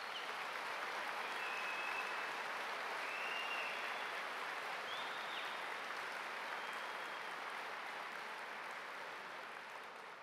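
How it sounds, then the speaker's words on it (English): Sustained audience applause at a Duke TIP recognition ceremony, a dense, even wash of many hands clapping in a large hall that holds steady for about ten seconds and tapers slightly at the end. "Please give yourselves a round of applause for that."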